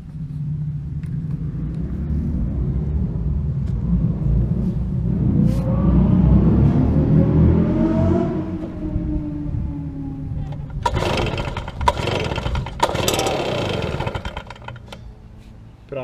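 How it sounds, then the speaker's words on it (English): A 2009 Stihl BR430 Magnum 57cc backpack leaf blower runs with a steady low engine drone that swells and rises in pitch midway, then eases back while scattered clatter and knocks come through nearby. "up next is a 2009 Stihl BR430 Magnum"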